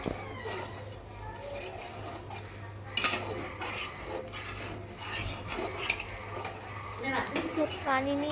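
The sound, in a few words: stirring beef bhuna in a pot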